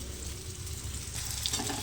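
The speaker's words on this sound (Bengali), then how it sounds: "এখানে দেখো মশলাটা আমার ভাজা ভাজা হয়ে গেছে" Spice masala paste for mustard fish curry fries in a pan, a soft, brief crackling sizzle that grows slightly busier toward the end.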